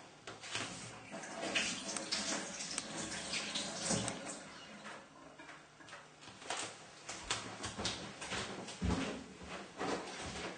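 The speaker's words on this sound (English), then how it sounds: "just give your hands a little wash" Hands are washed under running water from a tap, a continuous rushing hiss broken by light splashes and small clunks.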